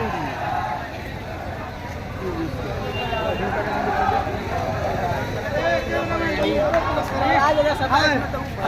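A crowd of young protesters at a peaceful sit-in over SC/ST reservation, a steady murmuring babble with people talking nearby throughout.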